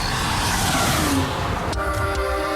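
A 1990 Vauxhall Lotus Carlton passes with a loud, steady engine roar that shifts pitch as it goes by, followed by a short tonal toot near the end.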